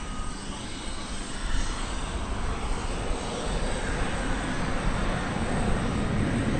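A jet airliner lifts off from the east side of DFW Airport, producing a loud, steady, broadband engine roar that holds throughout without letting up.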